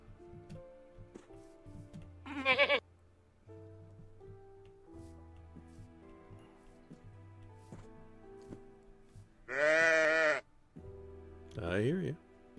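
Goats in the video game TerraFirmaCraft bleat three times, loud wavering calls over a quiet backdrop of soft in-game ticks and tones.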